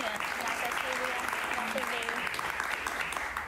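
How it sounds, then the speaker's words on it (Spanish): Studio audience on a TV talk show applauding a singer as she is introduced, steady dense clapping throughout, with voices talking over it. "Un aplauso para ella, por favor."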